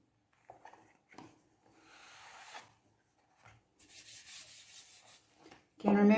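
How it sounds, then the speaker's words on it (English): A hand rubbing ink into mixed media paper, soft papery swishing strokes in short bursts with pauses, close and quiet, ending in a louder rustle. "don't rub your nail through, always just your hand or the side of your thumb"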